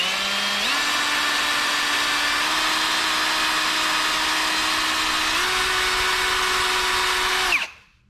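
A small bit drills through a broken bolt in a rusty Lexus engine with a steady high whine. The motor speed steps up a few times before the drill stops abruptly.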